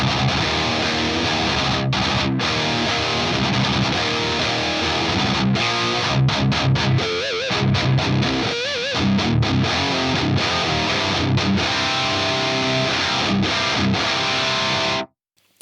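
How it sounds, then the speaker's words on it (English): Distorted electric guitar run through an AX8 block emulating an Anarchy Audio Workhorse Klon-style boost with silicon clipping, playing chugging riffs and sustained chords loudly and continuously before cutting off at the end. "my personal favorite is this block I've made, which emulates my Anarchy Audio Workhorse pedal, which is a clon style boost."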